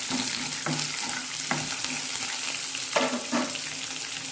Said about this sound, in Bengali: ভেজানো ছোলা দিয়ে দিলে এরপর এটা নাড়াচাড়া করবো